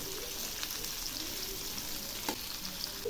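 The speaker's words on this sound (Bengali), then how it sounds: "আলু আর সজনাগুলো ভাজা প্রায় হয়ে আসছে" Potato pieces and drumsticks fry in oil in a pan, a steady close sizzle with occasional stirring clatter throughout.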